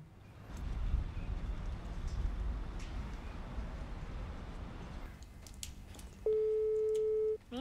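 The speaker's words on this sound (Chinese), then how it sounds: "爸爸电话怎么都打不通" A telephone call that fails to connect: after several seconds of low rumbling background noise, a single steady electronic line tone sounds near the end, holding for about a second before cutting off.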